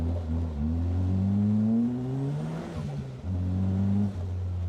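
An Ariel Nomad off-road buggy revs hard during an off-road time trial, the engine note climbing and dropping through gear changes, loud and close with no talk over it.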